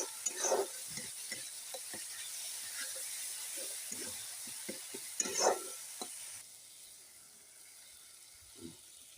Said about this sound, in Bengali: সুন্দর করে মশলাগুলো কষিয়ে নিতে হবে।